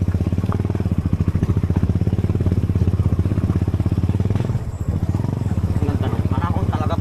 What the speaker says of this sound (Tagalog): Tatlong motor.